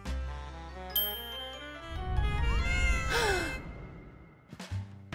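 A cartoon cat lets out a drawn-out, wavering meow that bends in pitch, heard up close over light musical tones, followed by a short, quieter mew at the end.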